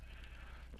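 A crowd of sheep in Minecraft bleats in overlapping calls, faint and distant against a steady background hiss, with a rapid pulsing tick low underneath.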